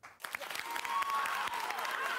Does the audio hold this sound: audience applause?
yes